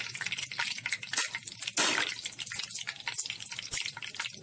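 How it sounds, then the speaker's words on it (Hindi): Chicken pieces deep-frying in hot oil during a second fry, giving a close, continuous crackle of sharp pops and spits with one louder burst of sizzling midway, and no talking. "हम 2 बार फ्राई करते हैं इसको।"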